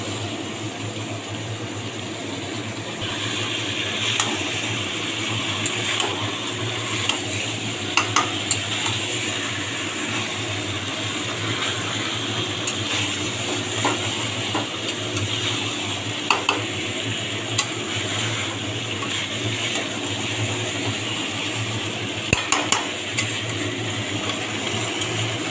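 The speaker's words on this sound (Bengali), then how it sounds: "চিকেনের সাথে বাকি মশলাটা কষাবো।" Chicken being stirred and fried with masala in a pan: a steady sizzle throughout, with scraping of the spatula and occasional sharper clinks against the pot. No one speaks.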